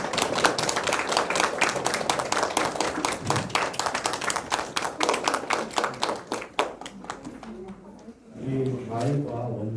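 A lecture audience claps at the close of a talk, a dense burst of applause that thins into scattered claps and fades, followed by a voice speaking near the end.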